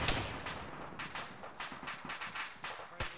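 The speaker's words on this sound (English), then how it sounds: "Whatever that cannon is it sounds terrifying" Rapid heavy cannon bursts from a ZSU anti-aircraft gun in a military video game, a run of sharp repeated blasts with a loud final shot near the end.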